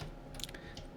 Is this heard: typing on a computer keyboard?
yes